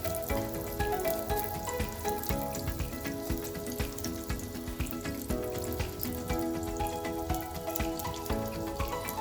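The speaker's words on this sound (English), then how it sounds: "So we've put some butter on our pan." Butter sizzles steadily in a frying pan on the stove, a continuous crackling fry with busy popping, fairly close and with no voices over it.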